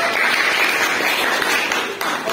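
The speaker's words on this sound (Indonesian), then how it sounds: "Tepuk tangan dulu untuk kalian semua." A classroom of students applauds together, a loud, dense burst of clapping heard close up and steady for a couple of seconds.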